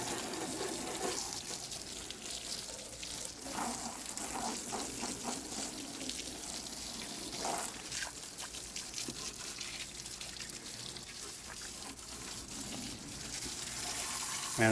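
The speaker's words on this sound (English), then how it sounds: "hose water" A garden hose sprays low-pressure water over the engine and valve cover of a 1992 GMC Yukon 4x4, a steady close hiss and splatter that shifts in tone as the stream moves, with no talking.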